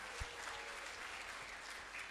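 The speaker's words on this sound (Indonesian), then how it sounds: "Boleh kita beri tepuk tangan yang meriah" Faint, distant applause from an audience at a high school graduation event, a soft continuous patter of clapping heard from far away throughout.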